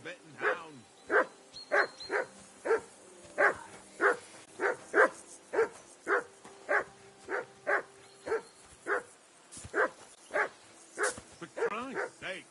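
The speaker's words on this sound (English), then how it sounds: "For Christ's sake, Henry, call off that damn dog before he wolfs down the last of our mates." Steady run of close, loud dog barks in Kingdom Come Deliverance 2, about twenty in a regular rhythm with a brief pause near the end before a final burst.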